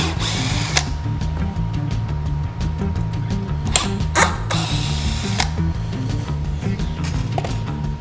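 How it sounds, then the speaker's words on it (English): A power tool unfastens a metal lathe faceplate from a wooden bowl blank, giving steady close mechanical whirring with short ratcheting bursts and sharp clicks over several seconds. "So we're going to undo the faceplate from the wood."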